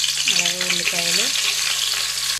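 Onions and spices frying in oil, a steady close broadband sizzle throughout, with a tonal whine over it in the first second.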